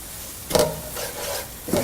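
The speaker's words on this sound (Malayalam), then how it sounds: "മുളക് പൊടി, ഗരം മസാല എന്നിവയെല്ലാം കൂടിയിട്ട് നന്നായിട്ട് വഴറ്റിയെടുക്കുക" Masala with chilli powder and garam masala being sautéed for kada roast, giving soft scraping stirs and a low sizzle in a few brief bursts, close and moderately quiet with no voices.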